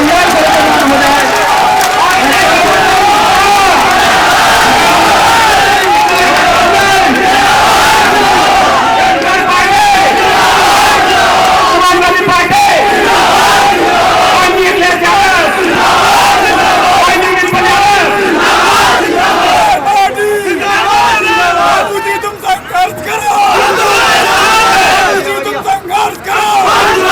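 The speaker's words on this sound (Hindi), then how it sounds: "आप लोग उनका तालियों से स्वागत करें" Loud, dense crowd noise fills a packed tent at a Samajwadi Party political rally in Mainpuri, a roaring mass of cheers and clapping that stays steady and close throughout, with shouts rising above it.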